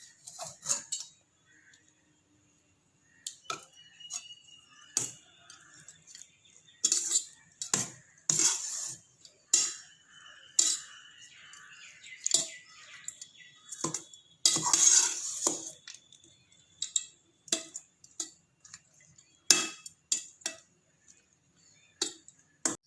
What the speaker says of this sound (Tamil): கொஞ்சம் கிளறி விட்டதுக்கப்புறம் மீதி இருக்கிற புளிக்காய்ச்சலையும் ஆட் பண்ணி நல்லா மிக்ஸ் பண்ணிக்கலாம்